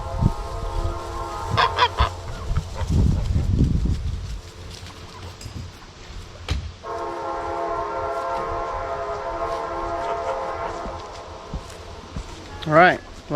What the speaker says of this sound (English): The ducks, the geese, and 6 of the chickens will end up over here.